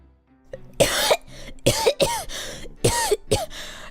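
A person imitates a coughing baby with a series of short, harsh, guttural coughs in quick bursts, close and fairly loud, separated by brief pauses.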